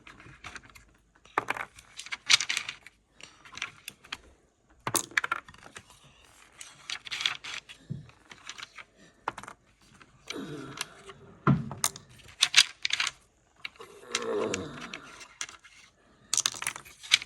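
Weighted plastic backgammon checkers taken out of a maple Noble Games tabletop board, a close series of sharp clicks and clacks in irregular bursts separated by brief quiet gaps.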